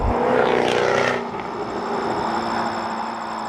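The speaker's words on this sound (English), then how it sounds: "The sound of this V8 is amazing." A 2014 Jaguar F-Type V8 S with its stock exhaust roars loudly as it passes close, a deep rising engine note that drops away into a steady, fainter drone.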